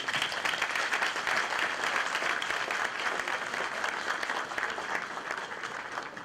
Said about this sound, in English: Round of applause to our distinguished lecturer